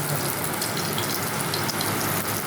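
Mushrooms frying in mustard oil in a pan give a steady, dense sizzle and crackle that runs evenly throughout, close and fairly loud, with no talking.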